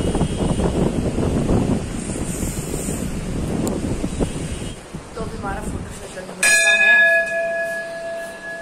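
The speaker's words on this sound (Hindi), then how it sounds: "घंटा बजाना तो जरूरी है।" A metal bell is struck once, ringing loud and close with a long fading tone, after a stretch of gusty wind noise and speech on a car trip from Lansdowne to Delhi.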